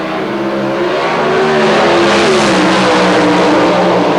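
A loud, roaring Pro Stock drag racing engine launches and screams as it accelerates hard down the strip, sustained and close, with no talking.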